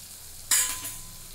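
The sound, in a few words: stirring spices sizzling in pan for capsicum potato bhaji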